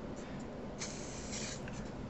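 Molotow spray paint hisses from a can fitted with a soft cap, a steady close spray of even loudness lasting about two seconds, with no voices over it.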